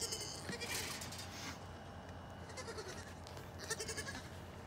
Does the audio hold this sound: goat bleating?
yes